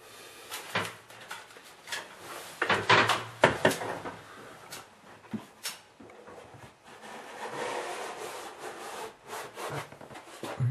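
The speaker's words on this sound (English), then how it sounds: "Just go up with a rag and take the worst of it off the walls." A rag wipes excess caulk off walls in a tight space, making soft scattered rubbing and scuffing strokes with a few sharper bumps, close by and fairly quiet.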